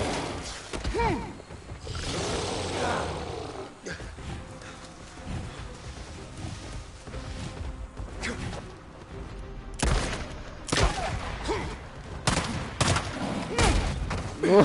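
Bursts of gunfire aimed at a bear in the game Days Gone, sharp and loud, clustering into rapid volleys toward the end over a busy game soundscape.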